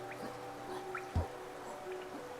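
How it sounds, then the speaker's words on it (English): Rain drips from cracks in the stone of a cave in Hollow Knight, with scattered water drops plinking at an irregular pace and one heavier splash standing out over a faint, steady ambient hum. "The rain pours down from cracks in the stone above."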